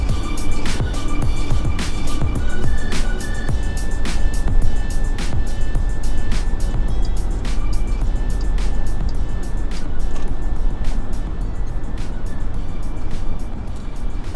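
A 2018 Jeep Grand Cherokee drives along, its engine and road noise giving a steady, loud interior rumble that stays even throughout, with faint ticking clicks from inside the cabin and no talking.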